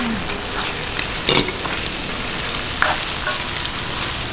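Shrimp sizzle continuously in a pan of pansit ingredients, a steady frying hiss broken by a couple of sharp clatters of a utensil against the pan.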